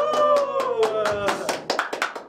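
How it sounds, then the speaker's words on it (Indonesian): A group claps for children at an Indonesian church gathering, a short burst of sharp, fairly regular claps that quickens and thickens toward the end while a voice speaks over the start. "Wah, kita kasih tepuk tangan dulu untuk adik-adik,"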